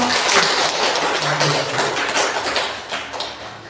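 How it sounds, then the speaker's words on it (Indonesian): A school teacher-training audience claps together for a continuous stretch, a dense steady wash of many hands at moderate loudness, tapering slightly toward the end. "Kita beri aplaus untuk kita semua"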